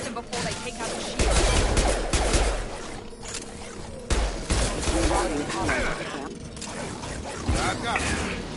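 Video game gunfire from Mass Effect 2 against hostile mechs: loud, repeated shots and mechanical clatter mixed with dialogue and battle noise over several seconds.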